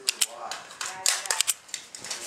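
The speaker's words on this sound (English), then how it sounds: "Mag all the way in." A magazine loaded with .22 WMR rounds is pushed into an AMT Automag II .22 Magnum pistol, producing a quick run of close metallic clicks and clacks over a couple of seconds.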